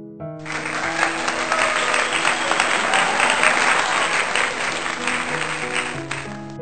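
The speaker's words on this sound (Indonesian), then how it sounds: "Kalimat ini disambut tawa, tepuk tangan" Loud, sustained applause from a large crowd at a governor's reception at Gedung Sate, with scattered voices and cheering mixed into the continuous clapping, while music or tonal sound runs underneath.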